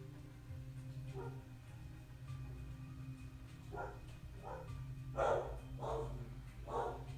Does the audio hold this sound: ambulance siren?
no